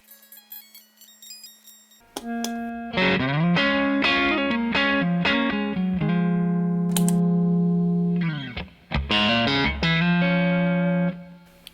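A Stratocaster runs through a Jackson Audio compressor pedal, set a little past noon with the blend halfway between dry and compressed and a slight volume boost. A lone plucked note leads into even, sustained chords and picked notes, with a brief gap before more playing.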